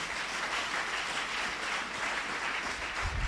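A church congregation applauding in a continuous, even wash of clapping that holds steady from start to finish, with no voices standing out.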